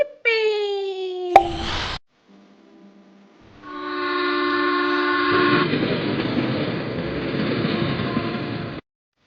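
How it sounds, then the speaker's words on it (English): A cartoon toy train is set on freshly built rails beside a new railway station, with a bright whistle-like tone and a clatter, then a steady rumbling run along the track that stops abruptly; cheerful voices are heard early on. "We can place the train on the reels."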